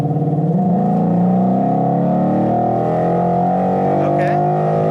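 A modified 2011 Mustang GT with a 5.0 V8 and lowered stance accelerating hard, its engine note climbing steadily in pitch as revs build, loud and close from inside the car.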